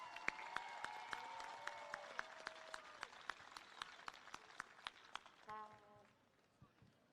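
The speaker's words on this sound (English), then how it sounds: "Let's give them a round of applause." An audience at a university commencement ceremony claps in sharp, scattered bursts, heard as faint, sparse individual claps rather than full applause, with a voice speaking over the start and another voice joining briefly near the end.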